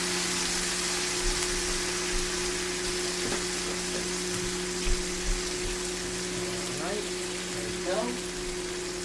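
Chicken simmers in a cilantro lime sauce in a pan, giving a steady soft sizzle and bubbling with a low constant hum and occasional small clinks.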